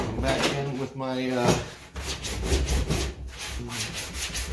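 Wood being sanded by hand with a sanding block, rhythmic scraping strokes back and forth, close and fairly quiet, with brief soft talk in between.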